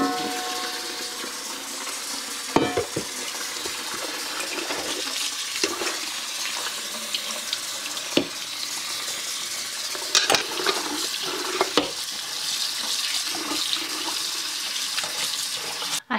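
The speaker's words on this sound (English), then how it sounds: "we're gonna rinse all of that salt out of there with cold water" Cold tap water streams steadily over a salted cucumber mixture in a colander, a continuous hiss and splash with a few louder clatters and knocks, close by and with no talking.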